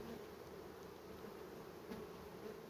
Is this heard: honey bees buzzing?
yes